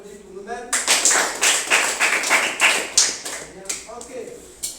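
A children's karate class clapping together in a quick, even rhythm of about a dozen sharp claps, close and loud, with voices heard briefly before and after the clapping.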